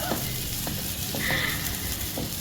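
Chicken pieces fry in a non-stick pan with a loud, constant sizzle, and a few soft stirring knocks and sputters break through the hiss.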